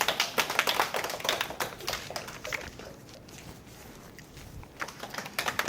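Audience at a Korean prenatal class for expectant mothers claps in a scattered, uneven burst of taps that fades midway and then picks up again near the end, with no talk over it.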